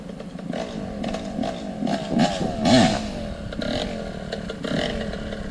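A motorcycle engine revs up and down under throttle while a learner rides, its rough buzzing note rising and falling with a louder surge near the middle. It is close and continuous, and no one speaks.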